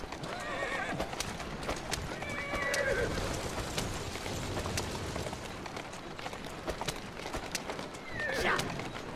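A horse in the video game Assassin's Creed Syndicate whinnies twice, high and shrill, over a steady rumble of hooves clip-clopping and background noise.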